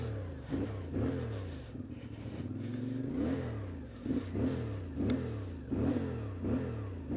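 An Ibex 450 engine revs hard in repeated bursts as the clutch is dumped, each rev rising sharply in pitch then dropping, about seven close, loud pulls in quick succession.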